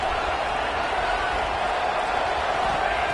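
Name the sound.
fired-up stadium crowd noise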